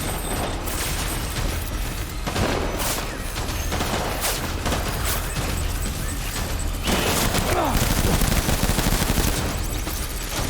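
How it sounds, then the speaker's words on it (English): Sustained gunfire fills a Death Stranding boss fight, with rapid bursts and heavy shots crackling continuously and close for the whole stretch. "you shoot their head off and they're still shooting you"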